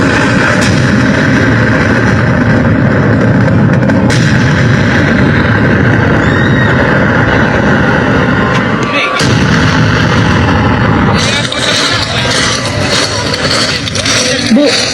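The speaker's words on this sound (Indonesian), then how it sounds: "tiba-tiba terdengar suara ledakan dan tembakan" Loud, continuous booming and rumbling like heavy explosions and gunfire, with sharp blasts breaking through a dense, roaring wall of noise.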